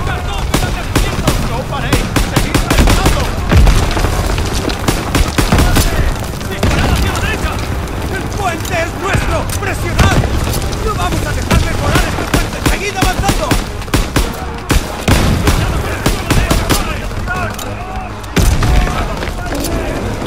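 Dense, rapid bursts of gunfire and booming blasts in the video game Call of Duty WW2 fill the scene nonstop, loud and close, with occasional voices mixed in.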